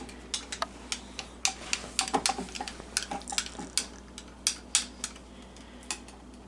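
A spoon clinks and taps against a dish in quick irregular strikes while soap mixture is stirred, close and fairly crisp, with no talk.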